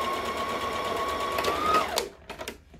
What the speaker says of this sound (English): So now I'm just going to stitch that inch shut again.